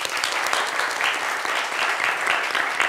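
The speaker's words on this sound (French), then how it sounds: "Vous pouvez vous acclamer, hein?" A French TV studio audience and the FC Oza football team applaud and cheer together, a steady, full wash of clapping close by throughout.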